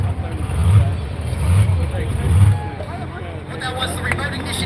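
The Polar Bear monster truck's engine fires up during a safety check, giving about three loud low revving surges before it settles to a rumbling idle, with voices over it.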